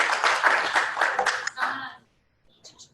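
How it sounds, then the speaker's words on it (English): A small leadership-class audience gives a short round of clapping and cheering, loud and fairly close for about two seconds before it cuts off into near silence, with a brief faint sound afterward. "Give her a round of applause there"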